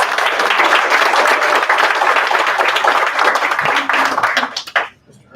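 An audience at a school board meeting applauds fourth grade leadership students, loud dense clapping that holds steady, then thins and stops near the end as a voice begins to speak.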